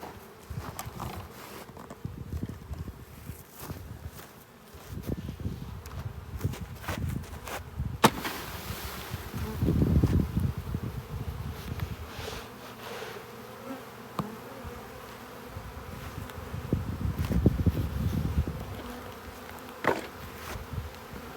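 A honey bee swarm buzzes loudly and continuously close by as bees are shaken onto a hive box where others are already settled, the drone swelling in waves and cut by sharp knocks and thuds.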